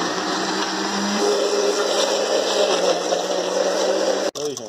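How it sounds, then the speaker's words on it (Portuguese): A kitchen blender whirs steadily as it blends cashew fruit for a simple cashew sweet, a loud continuous motor drone with a high whine, cutting off abruptly near the end. "nós vamos colocar o caju dentro, ó, do liquidificador"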